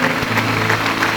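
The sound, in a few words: audience applause in church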